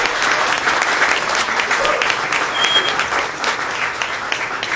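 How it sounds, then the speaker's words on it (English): An evening audience at a creative-economy mixer event applauds steadily, dense broadband clapping filling the room for several seconds with a faint voice or whistle briefly above it. "round of applause for these people"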